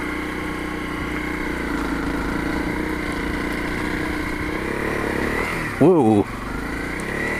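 Honda CRF250L trail bike ridden off road on a steep, slippery track, its engine a steady close drone throughout, with a brief louder burst near the end as a rider exclaims.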